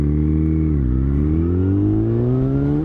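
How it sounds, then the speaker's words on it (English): Yamaha FZ1 second-generation motorcycle with a detuned R1-derived engine revving, a loud close steady drone that dips briefly and then climbs smoothly in pitch, with no talking. "this engine is derived from the R1 engine, just slightly detuned, and it is extremely powerful and extremely fun"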